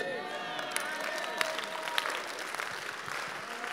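A church congregation claps steadily throughout, with occasional louder claps and crowd murmur standing out from the continuous sound, and voices mixed in.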